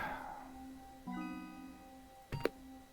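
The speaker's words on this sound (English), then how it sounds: "The sound of a quest update" A quest-update chime from the video game Terminator Resistance: a bright layered tone enters after a quiet start and holds for about a second. A short sharp burst follows near the end.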